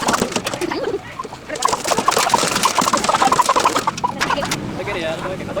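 Chickens and a rooster at a busy Vietnamese poultry market, clucking and crowing calls mixed with pigeon and dove coos, under steady chatter of vendors and buyers haggling.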